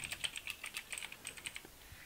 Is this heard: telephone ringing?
no